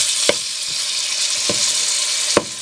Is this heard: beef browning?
yes